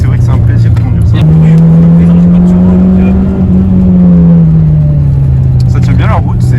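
A Renault Clio 2 RS engine drones steadily on the road from inside the car, its pitch stepping up then easing as it holds speed, with tire and road noise beneath and occasional voices.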